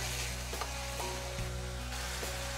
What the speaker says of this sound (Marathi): आता ही प्युरी आपण चांगली तेलामध्ये परतून घेऊ।